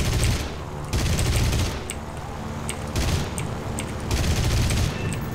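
Aircraft machine-gun fire from a Yak fighter plane in War Thunder, heard as several loud, dense bursts of rapid gunfire over a steady engine roar.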